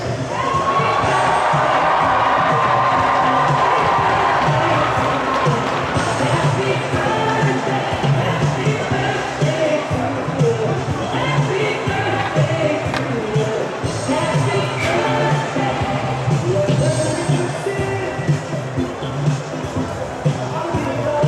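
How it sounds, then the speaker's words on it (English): Arena hockey crowd at San Diego State versus Oregon erupting in a loud, sustained cheer after a PA birthday announcement, dense roaring and shouting that holds strong throughout, with an announcer's voice under it. "May have been the loudest cheer of the night for a happy birthday for 4-year-old Bennett, announced over the PA."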